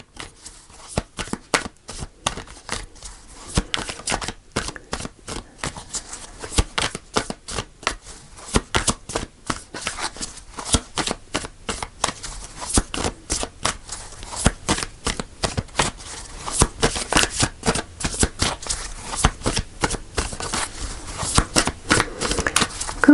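Tarot cards being shuffled by hand for a weekly reading, a long run of dense crisp riffling and slapping snaps, close and steady throughout, with no talk over it.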